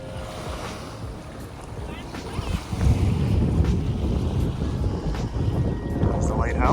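Wind and surf on a small beach at Charlevoix, Michigan, a steady broadband rush of waves and wind buffeting the microphone that swells louder partway through, with no talking.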